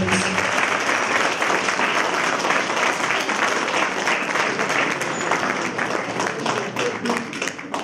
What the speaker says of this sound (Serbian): molim vas da aplauzom pozdravite i autore filma Dobrivoja i Dobrilu Pantelića